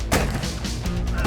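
A volley of tear gas rounds fired by a SWAT team at a barricaded armed man, heard as a loud, close burst of sharp reports over about a second, with no talk.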